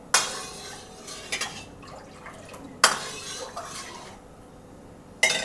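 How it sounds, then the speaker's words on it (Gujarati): A metal spoon stirs milk in a pot while kheer is being made, giving a few sharp clinks against the pot spaced apart, with quieter scraping between them, close by. "દૂધમાં એકવાર ચમચો ફેરવી લેવું"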